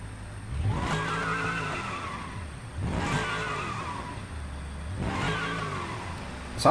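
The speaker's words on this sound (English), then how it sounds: "Like the supercharger, that's like the whiny sound." A supercharged car engine running on nitrous in a vehicle sandbox video game whines and revs in three repeated rising sweeps, loud and steady over continuous engine roar.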